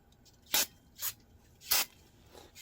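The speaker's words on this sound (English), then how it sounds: "Actually, going to spray a little bit of brake cleaner" Brake cleaner sprayed from an aerosol can onto the electric brakes of a vintage trailer during tire and bearing work, heard as four short hissing bursts with a final one starting at the end, fairly close, no talk.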